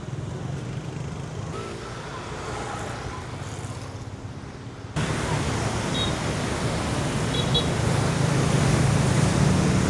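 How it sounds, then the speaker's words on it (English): Large waves roar on Nha Trang beach at night as a broad, continuous wash of surf, loud and close, swelling stronger partway through. "We're just down by the waterfront now, checking out the beach and these incredibly large waves."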